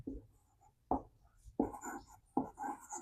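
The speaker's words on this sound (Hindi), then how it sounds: "चलिए हम लिखते हैं।" Pen or chalk writing by hand in short scratchy bursts, four distinct strokes spaced about a second apart, close and fairly quiet, with faint low background murmur.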